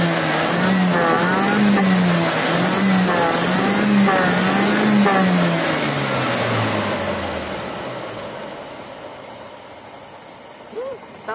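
A car engine with a clogged carburetor revs erratically, rising and falling in uneven surges before slowing and dying out, heard loud and close under a man's speech.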